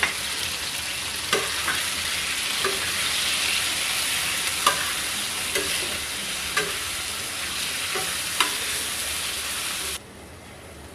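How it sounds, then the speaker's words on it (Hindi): Chicken fries with ginger-garlic paste on a tawa over low heat, a steady close sizzle punctuated by periodic knocks of stirring, then cutting off sharply near the end into quiet. "और इसको फ्राई करेंगे।"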